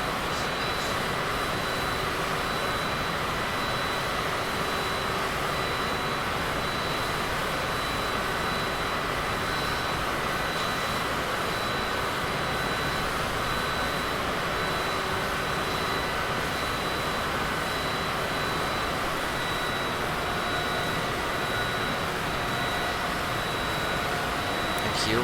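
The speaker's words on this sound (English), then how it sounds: "Alright, we're coming in for the landing right now." A Cessna Citation CJ4 business jet's engines in Microsoft Flight Simulator 2020, coming in to land near Nice, give off a steady, loud jet roar with a thin high whine that holds unchanged throughout, with no talk.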